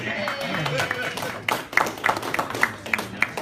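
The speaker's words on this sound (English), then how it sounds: "Sarah, a round of applause." A small audience claps for a volunteer called up on stage, a sparse run of individual hand claps under a voice talking, growing into sharper distinct claps toward the end.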